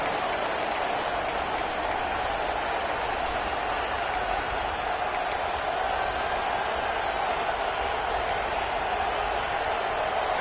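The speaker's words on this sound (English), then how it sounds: "This crowd ready to make its presence known." A football stadium crowd at a Penn State versus Notre Dame game roars in a constant, dense wall of noise, sustained at an even level throughout with no breaks.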